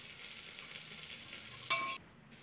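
Chopped onions sautéing with salt in a pan for field bean gravy, a steady broad sizzle at close range with a brief brighter scrape near the end before it drops away, no voices.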